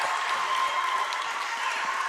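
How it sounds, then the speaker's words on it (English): Crowd at a varsity boys basketball game cheering and clapping: a dense, steady roar of applause and voices from a packed gym, loud and unbroken. "The crowd's going crazy, my friend."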